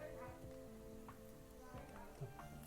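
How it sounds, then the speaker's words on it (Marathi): Onions sautéing in a pan for a wild-vegetable curry give a steady low sizzle and crackle, with faint stirring taps throughout and a voice speaking over the cooking. "कांदा मस्त परतले मसाले टाकून घेऊया"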